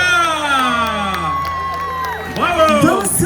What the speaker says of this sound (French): Un grand tonnerre d'applaudissements pour